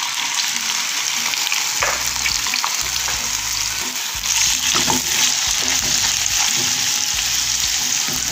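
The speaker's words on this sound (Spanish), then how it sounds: "Y ahorita estas cebollas las vamos a freír para que se caramelicen en el mismo sartén donde freímos" Onions fry steadily in the same pan used for steaks, giving a loud, continuous close sizzle with occasional stirring scrapes as they cook down to caramelize.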